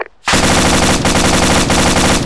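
Sustained automatic gunfire in a tactical military shooter game set on the Gothic Line, loud and dense after a brief quiet start, with rapid overlapping shots from two separate enemy positions.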